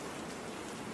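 Rain falls steadily on a rainy day as a faint, even hiss of raindrops with no voices over it.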